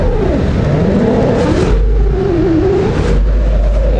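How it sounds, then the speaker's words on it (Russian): A car accelerates hard at full throttle through snow in Vladivostok, a loud close engine roar rising and dipping in pitch as the revs climb, drop and climb again, with no talking. "газ в пол"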